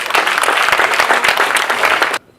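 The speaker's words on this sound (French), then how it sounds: "vous pouvez applaudir." Loud, dense applause from an audience at a television awards ceremony, many hands clapping in a sustained burst before cutting off abruptly near the end.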